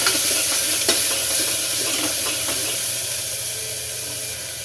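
Onion, garlic, ginger and green chilli sizzle steadily in a hot pan, with stirring scrapes and taps over the constant frying hiss, fading slightly toward the end.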